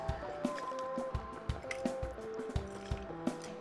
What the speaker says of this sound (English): grab your citrus juicer, and press them up